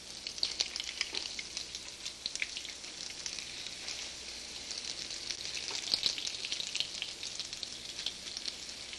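Chicken fillets coated in flour and egg dip fry in a pan with a continuous crackling sizzle and scattered pops, steady and close, with no talking.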